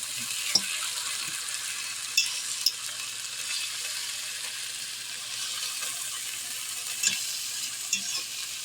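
Chuck roast browning in a hot pan gives a steady, even sizzle, with a few sharp clicks and scrapes from turning the meat now and then.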